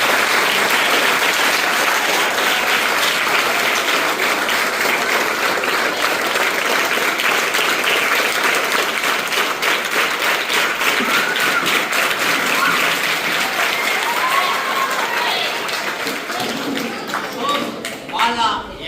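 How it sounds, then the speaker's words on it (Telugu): A school audience welcomes a cross-country traveller with long, loud, sustained clapping that stays dense for many seconds before tapering near the end, with scattered voices underneath. "దానికోసం వాళ్ళని స్వాగతం పలుకుతూ అందరూ ఒకసారి క్లాప్స్ కొడితే బాగుంటుంది"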